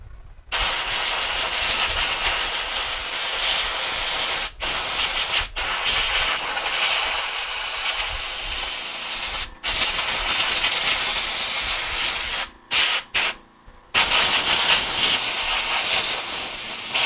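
Spray can hissing in long steady bursts onto an electronics circuit board with a lacquer leak, loud and close, with several short pauses between sprays.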